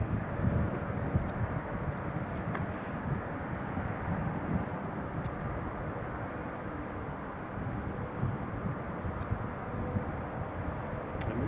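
An Emirates airliner taxiing toward runway 07 at Newcastle International Airport produces a steady, moderately distant jet engine roar and rumble, continuous and unchanging throughout.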